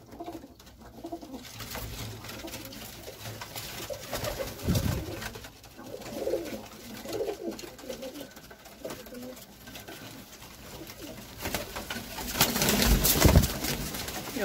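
Prized high-flying pigeons coo in soft, repeated throaty phrases across the span, with some faint background noise and a louder burst near the end.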